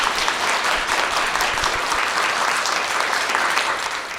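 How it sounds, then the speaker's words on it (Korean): Dense, steady applause from a lecture audience fills the whole stretch at an even loudness, with no voices over it, then eases slightly at the end. "큰 박수 부탁드리겠습니다"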